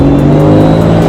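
Loud, steady engine note of a RAM TRX pickup truck pulling hard, a strong continuous roar with rising harmonics held throughout, no talking.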